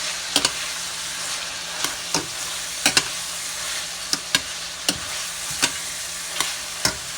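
Chopped lamb, onions, carrots, garlic and baby portobello mushrooms sizzle steadily in a pan for a bolognese, with a dozen or so sharp spoon scrapes and clicks from stirring at an uneven pace, close up.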